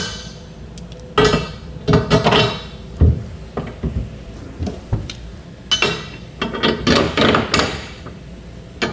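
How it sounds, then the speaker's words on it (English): Carriage bolts dropped through freshly drilled holes in the bed of a 2015 Ford F-350 Super Duty pickup during a fifth-wheel base rail install, giving a series of sharp metallic clinks and knocks, close and irregular. "We're going to take 5 of the carriage bolts that come in our kit and drop them down through the holes that we had just drilled."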